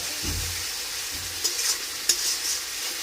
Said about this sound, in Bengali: এবারে আমাদের ম্যারিনেশন করা চিকেনটা দিয়ে দেব আমরা